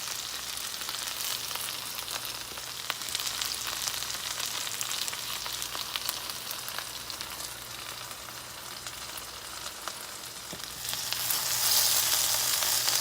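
Okra fries steadily in a pan for a Southern supper, a continuous bright sizzle with soft crackles that swells louder near the end, close and alone with no talk.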